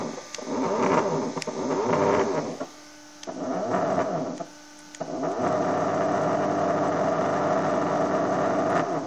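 Homemade CNC machine driven under manual control, its stepper motors whining and humming in steady tonal bursts that stop briefly and restart, with a continuous drone behind.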